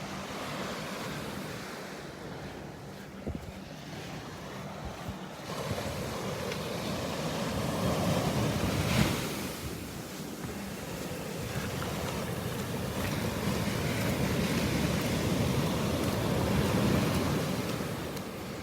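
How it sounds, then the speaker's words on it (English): Ocean surf rolls and breaks steadily on a Naples, Florida beach on a calm morning, a continuous broad wash with wind buffeting the microphone and one sharper surge midway. "Are those waves big enough for you?"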